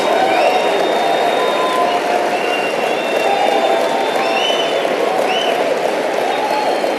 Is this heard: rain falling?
no